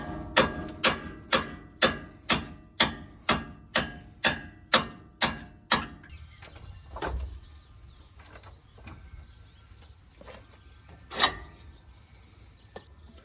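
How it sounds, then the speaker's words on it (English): A fast series of about a dozen sharp metal hammer strikes driving out a vehicle suspension bolt in steady rhythm, then scattered lighter knocks and clanks over a quiet background. "I'm just gonna go ahead and hammer it"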